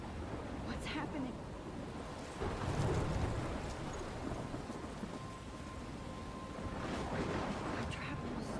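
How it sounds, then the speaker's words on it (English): A thunderstorm with heavy rain in the video game Life is Strange, steady loud downpour with rolling rumbles of thunder swelling and fading, and a voice speaking over the storm. "I'm trapped in a storm?"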